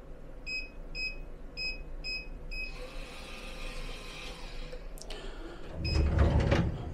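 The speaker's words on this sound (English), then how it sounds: "a digital safe. It's the usual 4 digits to lock and again to open." A hotel room digital safe keypad gives a series of about five short, evenly spaced electronic beeps, followed by a quieter mechanical clunk and rustling at close range.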